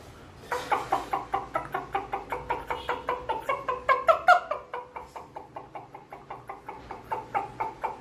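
A voice mimics a hen clucking in a steady, rapid series of short clucks that run for about seven seconds, close and moderately loud.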